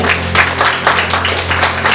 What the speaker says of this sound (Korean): 감사의 박수를 보내드리고